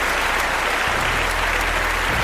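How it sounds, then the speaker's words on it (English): A crowd applauds loudly and steadily for a guest being welcomed onto a talk show, a dense wash of clapping holding at the same level with no voices breaking through. "That applause is long."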